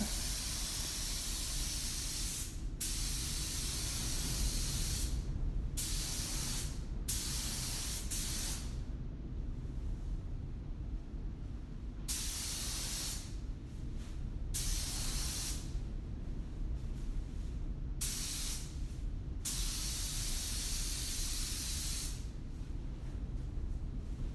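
A paint spray gun hisses in long continuous bursts, cutting off and restarting several times, loud and close over a steady low compressor rumble.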